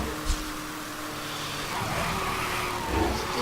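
Cars racing in the video game Need for Speed Hot Pursuit, with a steady engine drone, tire noise and a couple of brief louder bumps, continuous throughout without talk.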